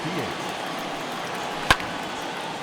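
In MLB The Show 21, a bat meets the ball with a single sharp crack, heard once in the middle of steady stadium crowd ambience, with a commentator's voice around it.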